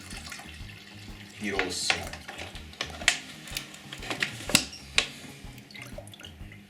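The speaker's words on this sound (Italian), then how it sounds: "Quindi adesso aggiungo un po' di acqua." Water added to natural earth pigment for making watercolour paint, heard as a series of small drips and splashes against a container, with a person speaking quietly over them.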